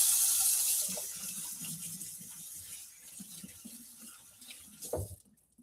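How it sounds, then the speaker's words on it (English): Running tap water pours into a sink while hands are washed in a home kitchen, the flow louder at the start then thinning out, ending with a brief clatter before cutting off. "let me wash my hands"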